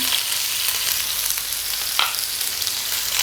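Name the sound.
sautéing onion, green chilli and urad dal in oil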